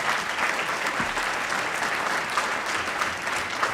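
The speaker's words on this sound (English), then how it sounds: "Let's clap it up for her." An audience at an MLK birthday celebration in Meadville applauds steadily throughout, a dense, even wash of clapping hands with no pauses.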